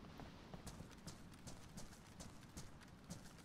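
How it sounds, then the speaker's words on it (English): Footsteps in the DayZ survival game on a dark server, heard as a steady run of soft, evenly spaced thuds over a constant low background hum, moderately close and with no talk over them. "Yep, footsteps."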